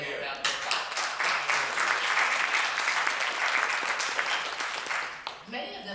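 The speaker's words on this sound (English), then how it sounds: "If we can just give them a round of applause" An audience at a university debate bursts into applause, dense clapping rising quickly and holding steady for several seconds before thinning out, with a speaker's voice heard at the start and end.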